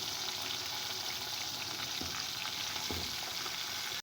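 Koftas frying in a pan over a slow flame, a steady dense sizzle throughout with a couple of soft low knocks, close and fairly loud, no talking.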